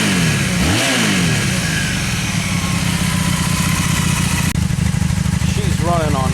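2002 Honda Magna motorcycle engine revving fast after a spark plug and air filter change, a loud, close, sustained roar with pitch swoops as the throttle rises and falls, a voice speaking over it.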